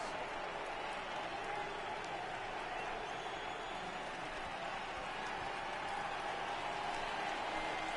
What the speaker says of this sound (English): Expos crowd trying to get into it here.